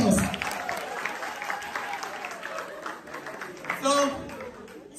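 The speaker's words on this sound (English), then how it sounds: "Clap yourselves." University students clapping for themselves at the end of a dance lesson, a short burst of applause that fades under voices and chatter, with a brief cheer near the end.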